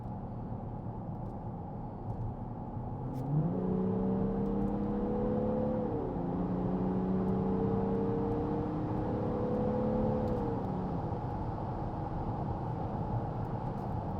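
A big SUV with a remapped 6.0 V12 diesel engine accelerating hard from inside the cabin, a deep steady drone that climbs in pitch through a couple of gear changes, with road and wind roar underneath.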